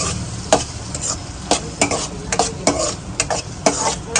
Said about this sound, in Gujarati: આને પેલા મસ્ત એક મિક્સ કરીને થોડી વાર આને સાતળવાનું છે.